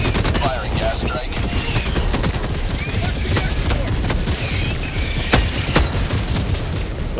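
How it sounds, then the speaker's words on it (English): A gas strike is called down in the video game Helldivers 2 amid a battle. Dense, loud bursts of rapid gunfire and heavy booms go on without a break. "Firing gas strike."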